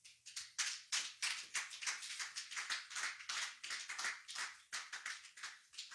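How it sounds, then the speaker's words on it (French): A church congregation applauds together in steady, rhythmic claps, loud and close, sustained throughout with no voices over it. "Acclamons la parole de Dieu"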